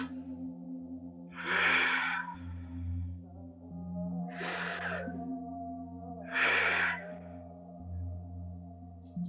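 Slow, deep breaths are taken during a yoga stretch on a mat, three long airy exhalations spaced a few seconds apart, close and fairly quiet over a low steady background hum.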